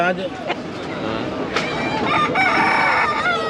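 A rooster crows loudly nearby at a poultry market, a long drawn-out call rising over a busy backdrop of people talking and other fowl clucking.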